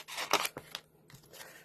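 A few quick snips of scissors cutting paper, close and crisp, with short pauses between cuts and faint rustling.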